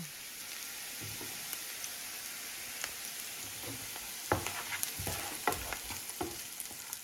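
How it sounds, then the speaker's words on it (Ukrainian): Steady, dense sizzle of finely diced onions frying in hot oil in a pan, with occasional crackles and small pops and a light scrape or two, no talking. "На олії піджарюємо мілко порізану кубиками цибульку."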